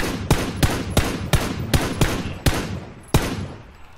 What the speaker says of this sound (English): I'm getting shots at me